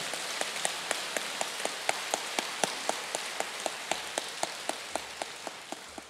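A church congregation at a Korean Christian revival service claps in a steady, even rhythm, about four claps a second, heard somewhat faintly and at a distance with no talking over it.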